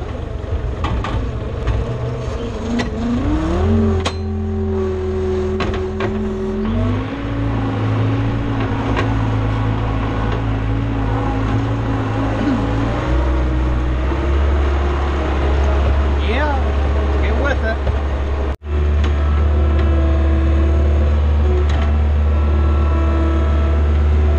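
A skid steer's diesel engine cranks, starts without glow plugs and settles into a steady idle, then changes pitch as it revs, with a brief cutout near the end before it runs on; someone talks over it.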